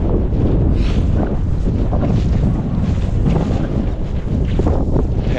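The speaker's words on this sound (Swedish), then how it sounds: "Härligt med friska vindar." Strong gusty wind buffets the microphone outdoors in a deep-snow winter landscape near a cabin, a loud continuous roar with surging gusts and no talking.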